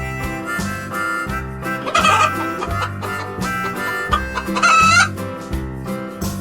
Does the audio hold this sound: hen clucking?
yes